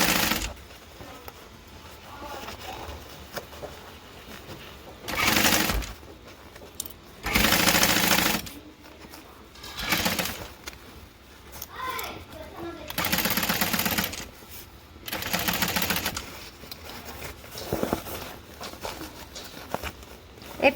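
Sewing machine stitching a bag lining with a half-inch seam allowance, running in several loud bursts of rapid whirring stitches separated by pauses, with quiet talk in the gaps.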